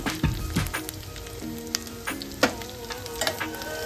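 Onions and tomatoes frying in hot oil for pindi charu, a close, steady crackling sizzle punctuated by a few ladle knocks and stirring scrapes, no voices.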